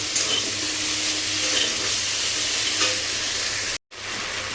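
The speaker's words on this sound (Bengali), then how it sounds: "খিচুড়ির জন্য ফুলকপিটা আগে ভেজে নিচ্ছি।" Cauliflower frying in oil for khichuri gives a steady, close sizzle that runs unbroken, with a brief drop to silence near the end.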